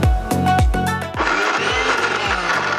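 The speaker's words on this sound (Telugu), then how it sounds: "ఇది మిక్సీ అయిపోయింది," A kitchen mixer grinder blends soaked semolina into a thick batter, starting with a few short pulsed bursts before settling into a loud, continuous whir close by.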